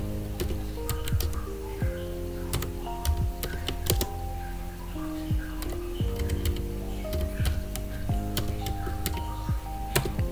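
Fingers type on a computer keyboard in an irregular, close run of light clicking keystrokes over a steady background hum, with no one talking.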